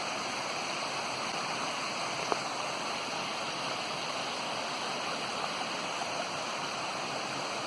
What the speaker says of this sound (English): you can just see the water pouring down through the woods.